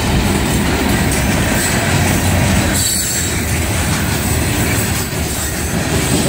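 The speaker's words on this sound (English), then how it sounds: "These ones, look how big these boxcars are." A freight train of large boxcars rolls past close by with a loud, steady rumble and squealing wheels that hold on for several seconds.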